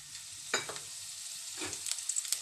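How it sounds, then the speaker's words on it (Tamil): Dried red chillies fry in hot oil over a lowered flame for a Tamil country chicken dish, a soft sizzle broken by a few louder stirring scrapes. "எண்ணெய் வந்து சூடாயிடுச்சு அடுப்பை வந்து ஸ்லிம்மில் வச்சுட்டு நம்ம வந்து காஞ்ச மிளகாவை சேர்த்துக்கலாம்"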